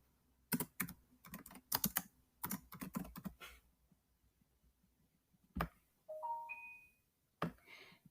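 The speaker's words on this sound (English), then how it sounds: "You can also type a message on your board using the text box, and you can type whatever you want." Someone types on a computer keyboard: quick clustered keystrokes in uneven bursts, nearby and fairly quiet, then a pause, a few short electronic tones and a last couple of clicks.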